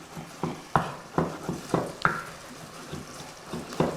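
Meat sizzles and spatters in a pot of jollof rice as the liquid cooks off, with repeated short bursts of crackle and stirring clatter, close and moderately loud, no talking.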